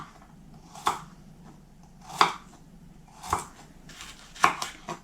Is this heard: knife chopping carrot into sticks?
yes